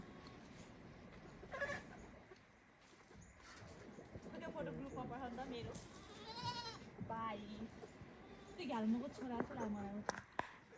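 Goats bleat several times with wavering, quavering calls, mixed with people talking nearby in a quiet outdoor setting.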